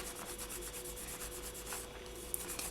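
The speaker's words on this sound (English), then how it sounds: "all you're going to do is you're just going to sand around the outside" Steady rhythmic rubbing of fine polishing paper against a hard polymer clay piece, soft and close, repeated strokes with no voices.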